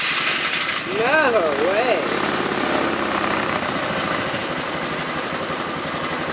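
A 1999 Polaris Sportsman 500 ATV engine cold starting on choke, cranking briefly and catching into a steady, loud idle; a person speaks briefly over the engine noise.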